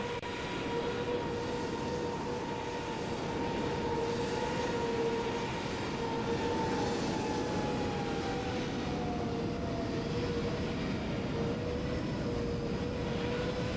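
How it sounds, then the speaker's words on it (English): Airliner engines in Microsoft Flight Simulator 2020 give a steady, continuous droning hum with tonal whine lines, loud and unbroken throughout with no talking. "plane sounds like a lawnmower."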